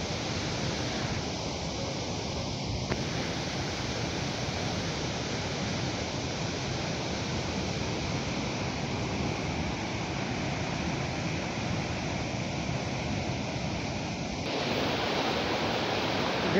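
The Bhivtas waterfall in Surgana gives off a continuous, even roar of cascading water, close and full, holding constant from start to finish with no voices.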